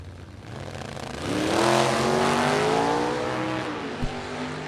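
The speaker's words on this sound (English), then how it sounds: "Novocaine, is what he calls that supercharged, blown Chevrolet Nova from Indiana on the right-hand side." A supercharged, blown Chevrolet Nova drag car from Indiana, nicknamed Novocaine, roars at a vintage drag race, its engine note swelling loud and rising in pitch as it accelerates, then holding a strong sustained howl with no voices.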